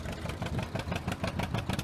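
An old John Deere tractor engine runs steadily while working straw bales, a close, loud, rhythmic diesel throb with quick regular pulses and no talking.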